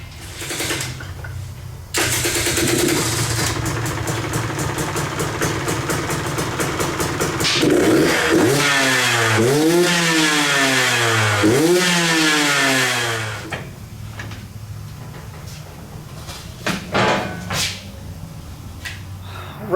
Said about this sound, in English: The 125 is running better with that 30 Pilot in there.